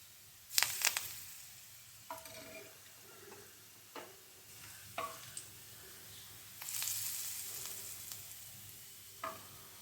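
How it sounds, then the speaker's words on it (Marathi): Hot oil is poured over a spiced stuffing mix for bitter gourd and gives a few sharp sizzling bursts, then a longer hiss and quieter crackles with pauses between. "तर हे जे गरम झालेलं तेल आहे ते आपण यामध्ये घालणार आहोत"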